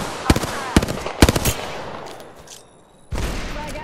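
Video game gunfire in Apex Legends, sharp close bursts of rapid shots followed by a quieter stretch and then a louder blast, with no talking over it.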